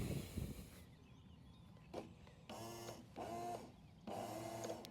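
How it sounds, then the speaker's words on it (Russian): A GPS carp bait boat's two propellers whir up in short electric-motor bursts, roughly three close runs separated by brief pauses. "Два винта работают, уже хорошо."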